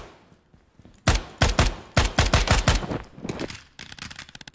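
Gunfire in the tactical shooter Ground Branch: a quick series of loud, sharp shots in irregular bursts, followed by a faster trailing volley, with no talking.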